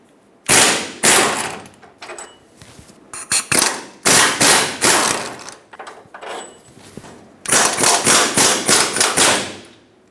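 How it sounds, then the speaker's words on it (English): An 18mm socket working the steering box bolts on a Ford E-350 gives loud, close bursts of rapid rattling impacts, several separate runs with short pauses between them, and no talk. "Use an 18mm socket and remove the 2 and loosen the last one."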